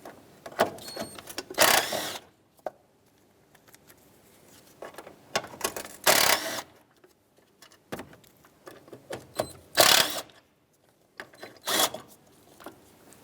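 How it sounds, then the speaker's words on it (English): A ratchet works 10mm bolts loose on a 1997-2001 Lexus ES300 during starter replacement, giving short bursts of quick clicking separated by quiet pauses, close and fairly faint. "And now you have 3 10mm bolts that I want to take off here."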